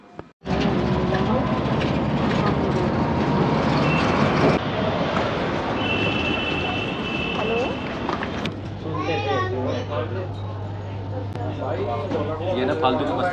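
Steady low rumble of a Delhi Metro train carriage in motion, with a constant hum and children chattering and playing nearby throughout.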